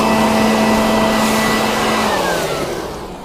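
Loud, steady rush of compressed air blasting through a Mercury 9.9hp outboard carburetor, a continuous hiss holding for a few seconds before easing off and fading near the end, with no talk.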